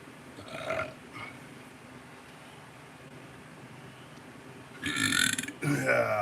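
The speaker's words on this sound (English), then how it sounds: "that's a burp" Two loud, guttural burps from a man, a short one early and a longer, louder one near the end, over a quiet room hum.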